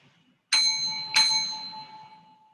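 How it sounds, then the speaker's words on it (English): Two bright bell dings sound in quick succession after silence, each ringing out and decaying slowly, clear and close. "Let me get 2 bells here."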